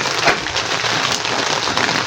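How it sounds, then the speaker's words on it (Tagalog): Steady rain pouring down on a calamansi farm, a dense continuous hiss of drops hitting a surface, fairly loud and close, with no voices. "Yan mga kapartner, umuulan."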